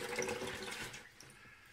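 Lukewarm tap water runs over an 8-inch Soligor MT-800 Astro Newtonian telescope mirror sitting in a sink. The splashing is brief and quiet, then trails off into a faint trickle.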